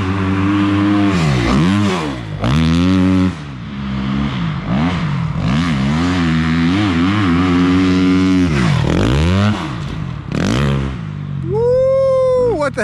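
Two-stroke motocross bike at a jump track, its engine revving hard in repeated rising and falling bursts, with brief dips where it bogs, loud and close.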